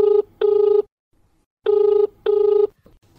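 A telephone rings for a radio phone-in programme, giving two clear double-burst electronic rings separated by a short silence, close and distinct with nothing else around them.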